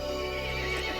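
A horse neighs in Resident Evil Village, a single strained whinny over a steady droning game backdrop, loud and close, with no talk.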